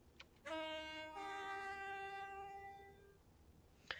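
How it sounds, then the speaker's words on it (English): An Electro Star train horn in the Roblox game Stepford County Railway sounds one sustained two-tone blast, with a short click before it and a sharp click near the end, over faint background hiss. "the next thing that we're going to look at is the new Electro Star horns"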